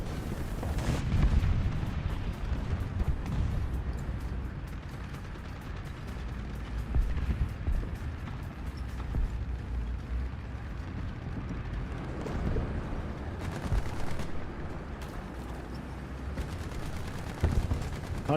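War Thunder combat with dense, continuous gunfire and heavy artillery booms, loud, rumbling bursts layered over each other with no clear pauses.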